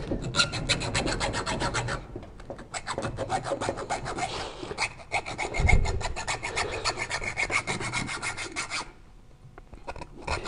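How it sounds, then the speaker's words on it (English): A hacksaw blade cuts into the steel wire armouring of an SWA cable with steady back-and-forth strokes, a close, rhythmic rasping that pauses briefly partway through and again near the end. "How hard can we press with our hacksaw blade in order to get well into the SWA armouring and not through it and into the conductors itself?"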